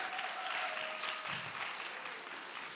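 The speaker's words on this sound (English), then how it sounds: "Give her applause." Steady applause from an audience at a business growth seminar fills the room, dense and even throughout before easing slightly toward the end, with no voices standing out.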